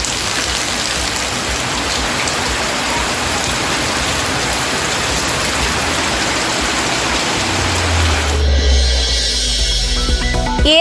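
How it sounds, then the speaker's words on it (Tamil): Heavy rain pours down in a dense, continuous hiss, then a deep low rumble of thunder rolls in near the end. "விழுப்புரத்தில் இடிமின்னலுடன் கனமழை."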